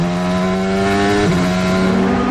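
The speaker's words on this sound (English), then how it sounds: "This is the sound of Daniel Ricciardo, who does make his way out of the pit lane" A Formula 1 car leaves the pit lane at the Sao Paulo Grand Prix with a loud, steady high-pitched engine drone that shifts pitch partway through, close and continuous.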